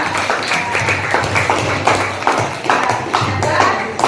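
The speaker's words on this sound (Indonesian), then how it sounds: "Beri tepuk tangan untuk yang kedua" Classroom applause for a student during a grade 7 science lesson, a steady patter of many hands clapping for about four seconds, fairly loud and close, with faint voices mixed in.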